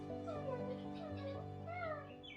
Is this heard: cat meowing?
yes